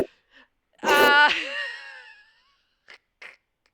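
A loud, close sneeze bursts out with a sharp inhaled buildup and a trailing exhale, followed by a couple of faint short vocal sounds afterward.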